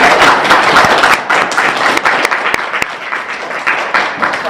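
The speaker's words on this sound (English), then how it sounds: "Can we give them a round of applause?" Applause from a crowd, dense clapping that starts strong and gradually thins out, with a few isolated claps near the end.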